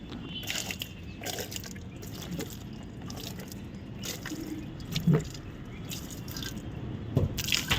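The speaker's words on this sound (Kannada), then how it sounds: "ಚೆನ್ನಾಗಿರೋ ನೀರು ಒಂದು ಬಕೆಟ್ ತಂದು ಸುರೀರಿ ಎಲ್ಲದಕ್ಕೂ." Water poured and dripping while vehicles are washed for a puja, with close irregular drips and splashes and a few louder splats over faint background noise.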